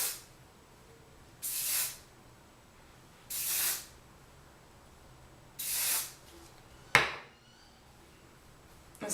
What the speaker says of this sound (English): And then I hairspray it because I have tons of like little baby hairs